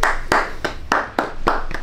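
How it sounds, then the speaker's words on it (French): Office colleagues in an open-plan workspace give a short round of applause, with a handful of sharp, spaced claps landing at uneven intervals over a steady background hum. "Tout le monde t'applaudit dans l'open space"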